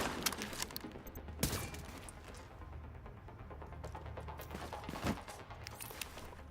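Gunfire in the video game The Division, a dense, continuous crackle of automatic shots with a few sharper bursts standing out, mixed with busy game noise and no speech.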